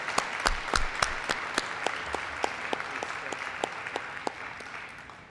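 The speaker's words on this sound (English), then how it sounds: "please join me in thanking Andy with a round of applause." Applause ripples through a small audience at a co-op annual meeting, distinct claps that start fairly full and thin out gradually as the round fades, heard from close by in a room.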